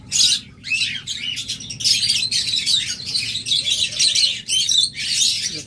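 Caged pet lovebirds or budgerigars chirp and tweet continuously in a busy, overlapping chatter, close by over a low background hum.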